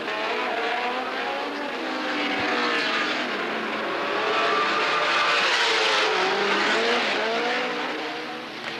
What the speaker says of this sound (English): here's the view from Crawford's second-place machine as we chase Villeneuve around the hairpin